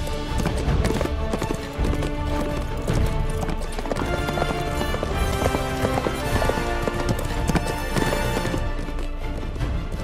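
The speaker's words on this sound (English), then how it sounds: "I need a horse." A horse's hooves clip-clop steadily on hard ground, close and loud, mixed with a dense busy background and occasional whinnying.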